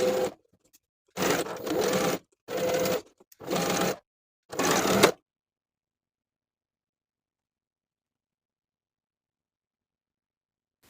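Sewing machine stitching a collar stand seam with a 1/2 inch allowance, running in four short bursts with brief pauses, then falling silent for the rest.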